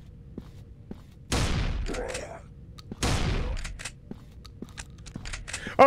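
Two sharp bursts of gunfire from a Jeff the Killer video game, each ringing out with a short crackling decay over a quiet, low game ambience dotted with faint clicks.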